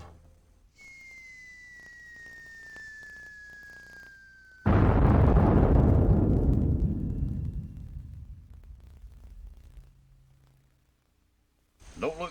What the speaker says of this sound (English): The explosion will scare them back toward us, and we'll get our shot.